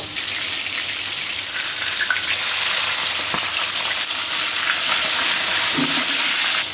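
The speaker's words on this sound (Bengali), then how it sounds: "মাছের সাথে একটু পেঁয়াজ কাঁচামরিচ একবারে ভেজে নেব" Pomfret fish frying with onion and green chili makes a loud, steady sizzle with constant hissing spatter. It runs unbroken throughout, with a few small pops along the way.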